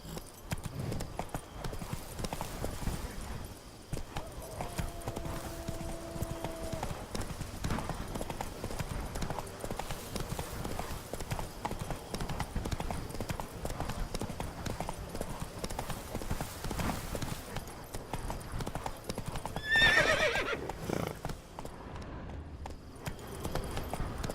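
Roach, the horse in The Witcher video game, trots at a steady pace. Rhythmic clip-clop hoofbeats continue throughout at a moderate, even level, broken briefly near the end by a louder burst.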